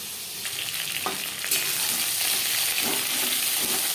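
Pieces of pointed gourd (potol) fry in a pan, giving a close, continuous sizzle with a few stirring scrapes and taps of a spatula. The sizzle swells slightly partway through.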